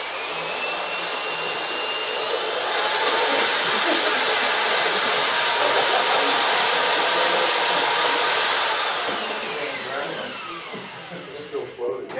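A Cuisinart food processor purees Concord grapes for Italian ice, its motor whirring loud and steady, swelling midway then easing off near the end, with brief kitchen clatter as it stops.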